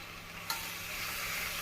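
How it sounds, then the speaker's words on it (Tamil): Chopped vegetables stirred into spiced masala in a hot pan for vegetable biryani, a soft scraping stir with a steady sizzle of frying underneath, close and continuous after a brief clatter. "மசால் பொடி போட்டு நன்றாக கலந்து விட்டு நாம் நறுக்கிய காய்கறிகளை போட்டு விடலாம்"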